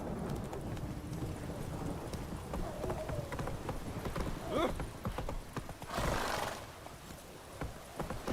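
Geralt's horse gallops in The Witcher 3: Wild Hunt, with a steady run of hoof clip-clops and a brief whinny partway through, set against a soft, rainy-sounding ambient background.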